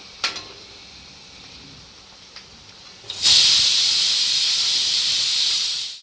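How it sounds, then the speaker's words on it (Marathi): Chopped medium onions hit a pan over a full gas flame, bursting into a loud, steady hiss that holds for several seconds after a brief quiet start. "तीन बारीक चिरलेले कांदे मध्यम आकाराचे कांदा लाल होईपर्यंत भाजायचा आहे फुल गॅसवर"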